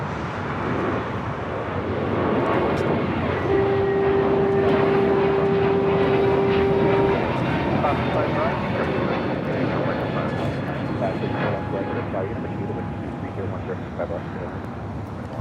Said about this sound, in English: that is the first JetBlue A321 in the new livery, the first mint livery